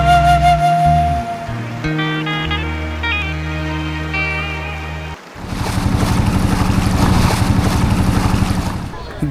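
A boat engine on the Nikli haor throbs as the boat returns to the ghat. A tonal, musical passage comes first, then a close, loud, rhythmic chugging with wind noise takes over.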